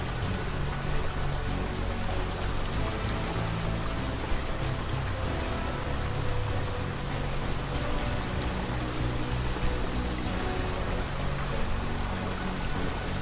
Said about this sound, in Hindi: धीमी धीमी बारिश के बीच